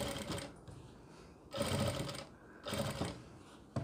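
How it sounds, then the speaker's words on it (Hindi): An electric sewing machine stitching a round Muslim cap, close and clear, running in three short bursts of rapid whirring with brief pauses between them. "अब ये सिलाई लग गई, अब इस पर हम पक्की करने के लिए एक सिलाई और लगा देंगे"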